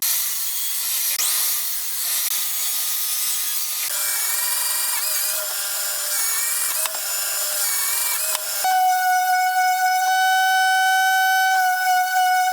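A steady, high-pitched drill whine runs continuously close by, boring through a scrap piece of wood and shifting pitch a few times, with no talking.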